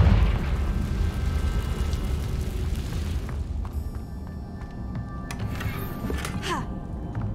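A Confringo fire spell in Hogwarts Legacy detonates with a heavy rumbling boom that decays over several seconds, followed by scattered crackling pops.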